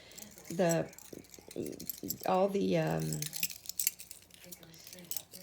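Trailer keys jangle with a light metallic rattle as they are hung on a hook, the clinks close and scattered beneath a person's speaking voice.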